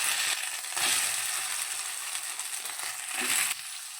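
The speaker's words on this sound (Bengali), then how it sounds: "তেলের মধ্যে আলুটা একটু নেড়ে চেড়ে নেব।" Cut potatoes sizzle steadily in hot oil in a pan while being stirred for a cauliflower singara filling, with a continuous crackling fry and scraping, clattering stirring noises that swell and fade across the clip.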